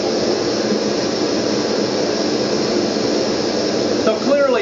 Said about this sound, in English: This is an LP gas stove.